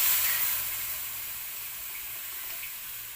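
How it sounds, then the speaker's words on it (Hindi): Milk poured into rice cooking in a pot on a clay wood-fired stove in an old house kitchen, giving a steady sizzling hiss that is loudest at first and then settles to an even, continuous simmer, with no talking. "अब डाल दी मेरी मम्मी ने दूध।"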